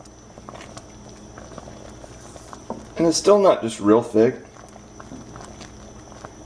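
A pan of thick sausage gravy bubbles and pops softly throughout, with someone speaking briefly over it in the middle.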